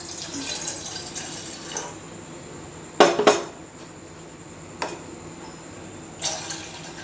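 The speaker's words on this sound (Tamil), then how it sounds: "இந்த கிண்ணத்தில் வந்து 2 கப் தண்ணி ஊற்றிக்கணும்." Water running and splashing into a kitchen bowl while making homemade chocolate, a steady wash of pouring with a couple of louder clinks and splashes of the bowl partway through, close and alone.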